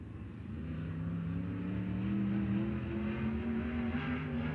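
Sprint car engines drone steadily through a time trial qualifying run at Texas Motor Speedway, a sustained, fairly even roar with a slight swell in the middle and no voices over it.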